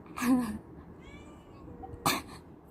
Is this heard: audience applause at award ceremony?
no